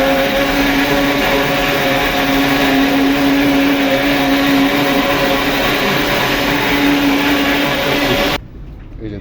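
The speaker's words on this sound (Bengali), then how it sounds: "এবার আমি এটাকে সুন্দর করে ব্লেন্ডার করব" An electric blender whirs as it purees green sauce, giving a loud, steady motor whine that holds for about eight seconds and then cuts off abruptly.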